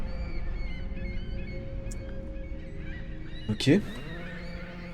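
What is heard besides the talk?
seagull calls in a lighthouse horror video game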